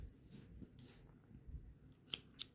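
Scissors snip crochet yarn after a chain stitch, with a few quiet, separate clicks, the sharpest two near the end against a soft, faint background.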